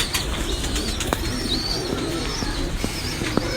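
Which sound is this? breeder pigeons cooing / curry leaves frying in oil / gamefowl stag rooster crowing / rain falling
breeder pigeons cooing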